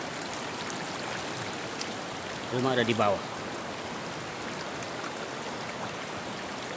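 Flood water of a river stream pouring down toward a house during a flash flood in Kiraman village, South Alor, heard as a steady broadband rushing that continues throughout, with a brief voice speaking partway through.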